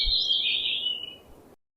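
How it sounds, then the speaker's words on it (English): A small bird chirps a short, bright single-phrase call, clear and close, that sweeps and then fades out, followed by silence. "swooped down from the ceiling and landed right on Birbal's arm, happily chirping a little song"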